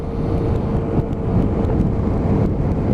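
Steady wind roar buffeting past the rider on a carburetted Hyosung GT125R motorcycle behind its front windscreen, a constant broadband rush with a low engine drone underneath and no talking.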